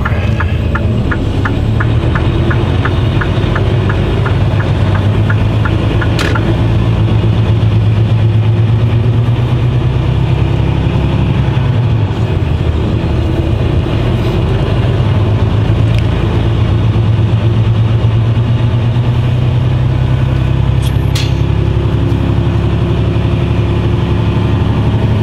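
A vehicle engine runs steadily and loudly throughout a slow drive around, a continuous low rumble with no speech over it.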